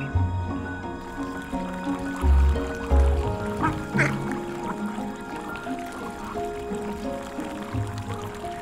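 Ducks quack on a free-range farm beside a lagoon, several nasal calls scattered across the stretch at moderate distance amid watery splashing and dripping, with a faint voice now and then.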